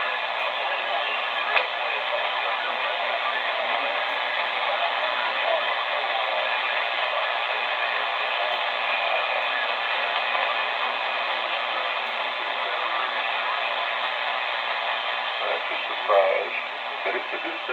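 A distant CB station on 27.385 MHz LSB is received as a steady wash of radio static and hiss. A faint, garbled sideband voice sits low in the noise for the whole stretch.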